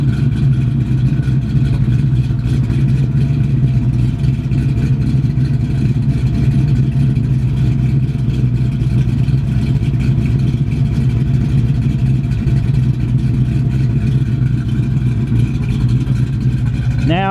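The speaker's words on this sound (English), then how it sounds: "The sound of the sweet exhaust." Loud, steady deep burble of a 1969 Chevrolet Camaro V8 exhaust idling close by, a constant low rumble throughout.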